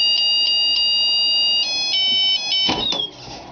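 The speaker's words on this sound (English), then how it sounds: "the buzzer will go off to let you know" A heat press timer buzzer beeps in a steady run of sharp, high electronic tones at close range, pauses briefly, beeps again, then gives way to a short rustle and clatter.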